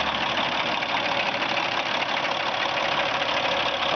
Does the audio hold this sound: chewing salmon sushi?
no